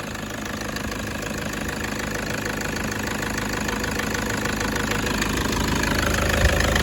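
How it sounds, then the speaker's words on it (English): A Toyota 1KD-FTV D-4D diesel engine idles nearby with a steady rattling clatter, and now and then a sharper injector knock cuts through the rough, continuous churn. "Hear that weird clattery knock every now and then?"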